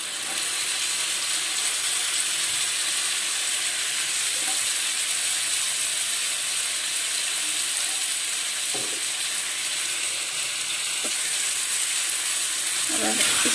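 Chopped ridge gourd (tori) sizzles steadily in a hot pan while being cooked into a sabzi, a dense, even frying hiss with occasional soft clunks of stirring.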